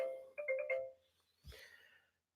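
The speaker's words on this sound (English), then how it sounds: "the phone's ringing." A telephone rings during a sports radio call-in show: a short run of four bright electronic chirps, followed by a softer rustle.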